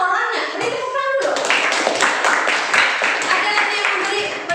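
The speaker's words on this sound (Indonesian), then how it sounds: "Beri tepuk tangan dulu." Classroom applause breaks out after someone speaks, a dense burst of many hands clapping close by that carries on steadily to the end.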